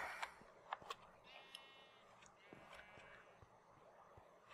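Sheep bleating in Minecraft, several short wavering bleats around the middle with faint clicks and game sounds around them, fairly quiet and with no talk over them.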